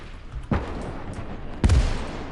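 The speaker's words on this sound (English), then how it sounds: "We've got a big field gun of some sort there." Two heavy booming shots from a field gun in the WWII strategy game Call to Arms: Gates of Hell on the Eastern Front, each a sharp thud with a rumbling tail, about a second apart.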